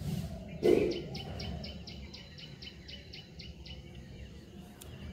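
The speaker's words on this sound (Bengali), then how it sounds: "কোকিল ডাকছে সকালবেলা, কি সুন্দর শুনতে লাগছে" An Asian koel calls a series of about a dozen short, evenly spaced notes, fairly faint and distant over a quiet morning background.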